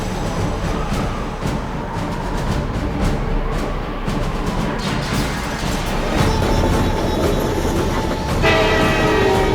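A train rolls past loudly with continuous rumbling and clattering wheels. A drawn-out horn blast sounds toward the end, and no voices are heard.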